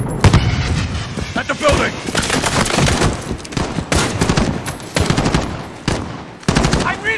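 Heavy sustained gunfire in a Call of Duty: Modern Warfare battle at an embassy, dense rapid automatic bursts and loud booming shots filling the mix, with shouted voices over the din.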